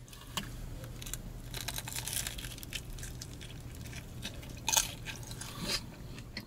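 Close crunchy bites and chewing of a crisp Detroit-style pizza crust, steady crackly munching with a louder crunch near the end.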